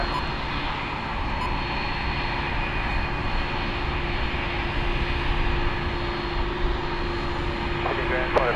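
An airliner taking off from runway 34 left at Sydney Airport, a loud steady engine roar that holds throughout, with faint radio chatter beneath.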